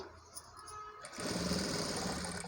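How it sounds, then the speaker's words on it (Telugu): A sewing machine runs a seam on a long frock made from a saree, starting after a quiet second and then whirring steadily and loudly at close range with no talk. "దాన్ని ఇలా ఒకదానిపైన ఒకటి పెట్టేసుకొని కింద నుండి పైకి కొంచెం దూరం వరకు స్టిచ్ వేసుకుంటూ రావాలండి."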